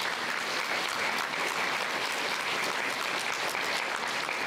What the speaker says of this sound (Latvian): aplausi jums!